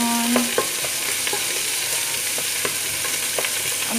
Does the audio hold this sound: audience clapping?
no